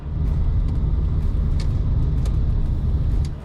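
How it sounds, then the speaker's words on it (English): Turn indicators clicking inside a retro car, a steady series of light ticks heard over a loud, constant low engine and road rumble. "The sounds the indicators make, it's typical of the era."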